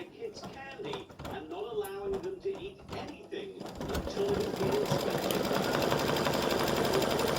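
A sewing machine stitches a narrow zigzag satin stitch to tack down pumpkin appliqué, first with short starts and stops while a person talks, then running steadily and loud in a continuous buzz.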